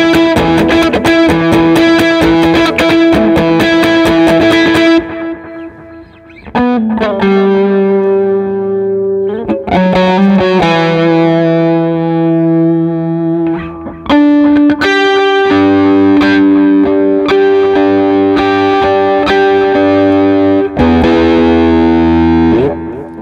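Distorted electric guitar run through a dotted-eighth delay of about 346 milliseconds, playing a riff; loud repeating picked notes echo in rhythmic cascades, with brief pauses between phrases and no talking.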